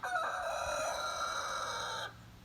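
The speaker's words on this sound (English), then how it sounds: "The rooster?" A rooster crows loudly and close by in one long, sustained cock-a-doodle-doo lasting about two seconds, then cuts off to quiet background.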